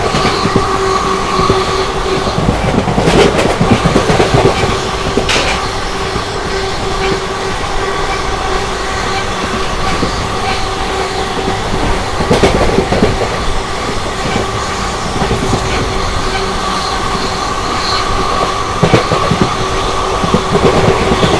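Kakinada Town–Mysuru special train 07033 running steadily, a continuous loud rumble of wheels on rail with rhythmic clickety-clack joints and occasional brief squeals, heard from close by without any talk.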